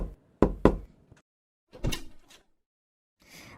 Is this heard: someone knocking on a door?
yes